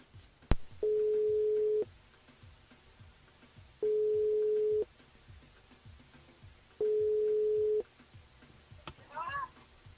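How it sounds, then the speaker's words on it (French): A telephone line ringing during a radio call-in show, three even, steady ring tones spaced a few seconds apart, heard close and fairly quiet before a voice briefly comes in. "Elle appelle Sheila"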